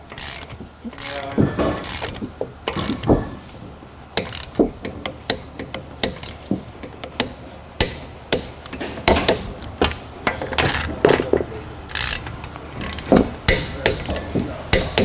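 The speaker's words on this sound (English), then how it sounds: "So now we're gonna torque the lug nuts." A torque wrench tightens the front wheel lug nuts on a Hyundai Elantra after a brake job, giving close, repeated ratcheting clicks in quick bursts with sharper metallic clacks spaced through the stretch, no talking.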